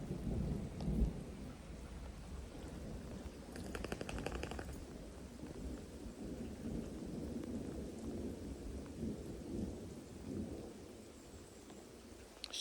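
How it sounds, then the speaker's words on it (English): A thunderstorm in woodland brings a rolling rumble of thunder over steady heavy rain pattering on leaves and ground, with a brief sharp crackle partway through and no voices. "now we've got a thunderstorm and I'm being absolutely drenched"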